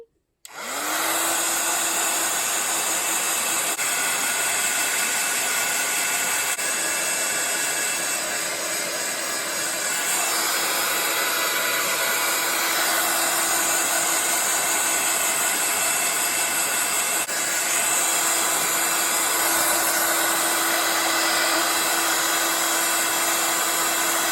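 A hair dryer runs steadily and loudly for the whole stretch, drying freshly painted pages of a handmade Wonderland craft journal with mini CD cover sleeves, a constant close whir with no talk.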